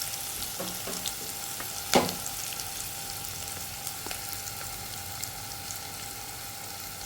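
Onions frying in a pan for a mixed vegetable curry, a constant close sizzle with a few soft taps and one sharp clink early on.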